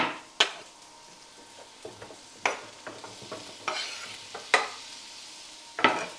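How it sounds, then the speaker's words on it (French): Chicken pieces frying in a pan with garlic over medium heat on a home stovetop, with a soft sizzle beneath sharp, irregular scrapes and clacks of a utensil stirring against the pan. "Tout de suite, j'ajoute le poulet."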